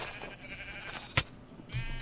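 A sheep bleats once in the Minecraft video game, a short, soft call over a steady background of game sound, with no talking.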